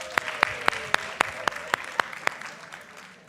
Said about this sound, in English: Round of applause to those winners.